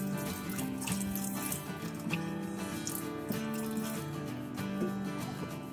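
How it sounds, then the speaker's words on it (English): Vegetable broth is poured into a quinoa skillet with chicken sausage and vegetables, giving a steady, continuous liquid splash and trickle at moderate loudness with no talking. "we're going to add about a cup and a half to a cup and a quarter of vegetable broth"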